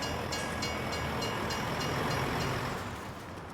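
A train rolling past in the Farming Simulator 19 video game, a continuous rumbling clatter of wheels on rails with faint rhythmic clicks, steady and close before easing slightly toward the end.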